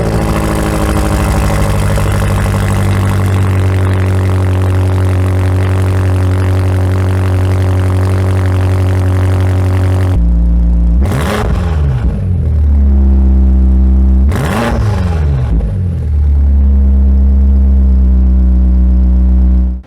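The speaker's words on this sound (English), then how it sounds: "So that's how the M5 competition sounds." A 2023 BMW M5 Competition with four exhaust pipes, parked at a standstill: a loud, close idle rumbles for about ten seconds, then two sharp revs climb toward a soft limiter at 5000 RPM and fall back to idle.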